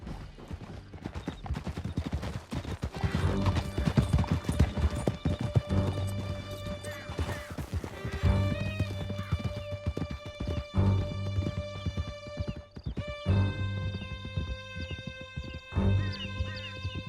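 Galloping horse hooves in Red Dead Redemption 2 pound in a steady, driving clip-clop rhythm, close and loud for the whole stretch, with occasional whinnies, distant gunfire and a musical score layered underneath.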